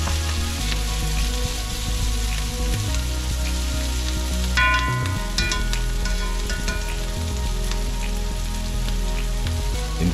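Aromatics with thyme frying in hot oil for collard greens, a steady loud sizzle with occasional stirring clinks and scrapes, no talking.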